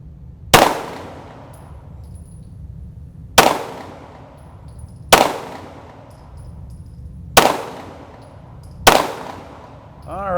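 Five sharp handgun shots ring out at a shooting range, spaced a few seconds apart with slight irregularity, each loud crack trailing into a short decaying echo; no talk.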